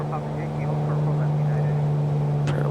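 Steady droning propeller engine of a Mooney M20R light aircraft at full prop in Microsoft Flight Simulator, a constant hum running throughout with a brief click near the end.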